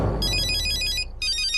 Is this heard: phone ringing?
yes